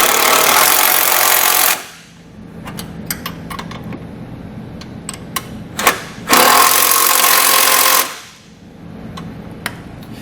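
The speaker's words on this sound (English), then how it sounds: "I'm going to tighten up the bolts while I hold the nut on the back side with the wrench." Bolts driven tight with a powered 9/16 socket while a wrench holds the nut on the back, installing a Demco tabless base plate on a 2018 Chevrolet; two loud sustained buzzing bursts separated by a pause of metallic clicks and taps.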